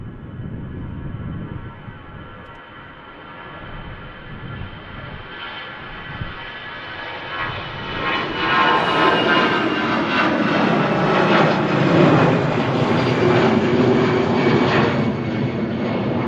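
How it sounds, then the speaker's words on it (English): An EasyJet passenger jet departs Manchester Airport bound for Malaga, its engines a steady, distant roar that swells into a loud, broad rumble as it passes, with no talk. "An EasyJet just heading out to Malaga."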